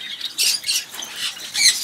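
Several finches chirp and squawk in quick bursts inside a breeding setup that houses Bengalese finches and giant finches, the high, scratchy calls close and overlapping, with no talk.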